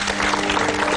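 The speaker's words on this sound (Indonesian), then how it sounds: "Ya, tepuk tangan dong." A brief, steady burst of audience applause fills a seminar hall, the clapping dense and even throughout.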